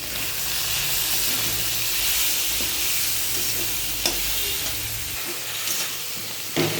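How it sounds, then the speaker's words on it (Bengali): Potatoes, onion, chopped tomato, green chilli, salt, turmeric, Kashmiri chilli powder and boiled soybean chunks sautéed in a pan, a steady broad sizzle with occasional scraping stirs and clinks throughout, close and without talk. "আলুটাকে একটু ভেজে ভেজে নিয়ে তার মধ্যে পেঁয়াজ, টমেটো কুচি, কাঁচা লঙ্কা, নুন, হলুদ আর কাশ্মীরি লঙ্কার গুঁড়ো আর সয়াবিন সেদ্ধটা, এটা দিয়ে এখন আমি খুব ভালো করে কষাচ্ছি"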